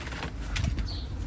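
A bird flutters inside a shed, giving a short burst of wing flaps close by, with no talking over it.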